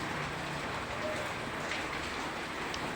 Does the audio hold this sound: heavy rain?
yes